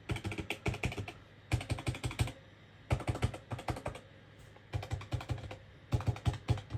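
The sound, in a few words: typing on keyboard buttons of Elektron case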